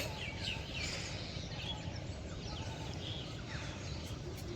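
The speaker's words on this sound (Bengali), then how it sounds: "সুন্দর পাখির ডাক, তাই না?" Village birds in rural Bangladesh call in the morning, with faint scattered chirps and short whistles spread across the distance over a constant low ambient hum.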